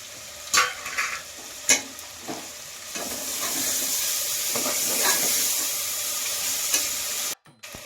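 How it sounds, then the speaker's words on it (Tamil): Fresh mint and coriander leaves frying in hot oil for mutton biryani, a continuous close sizzle broken by sharp scraping stirs of a spoon against the pan, louder in the middle and ending abruptly. "நல்லா 1 கைப்பிடி புதினா இருக்குது, கொத்தமல்லி நம்ம 2ஐயும் போட்டு அதிலே வணக்கிடும்"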